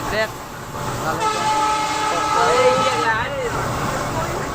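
A passenger train on a night journey toward Kokrajhar, its steady rumble and rolling noise continuous and close, with a brief horn-like tone rising near the end.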